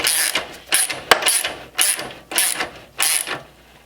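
A ratchet wrench loosening crash bar bolts on a Ducati Scrambler: six separate close bursts of rapid clicking, each a short run of pawl ticks with brief pauses between strokes.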